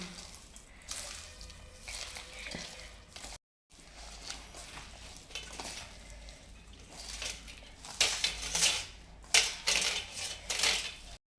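Maddur vada dough of semolina and onion mixed by hand in a vessel: soft crunching, squishing and rubbing sounds close by, with occasional light clinks against the bowl, growing busier and louder near the end, with no voices.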